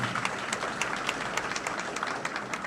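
An audience at a university ceremony applauds families, dense, continuous clapping at moderate volume that holds steady for nearly three seconds.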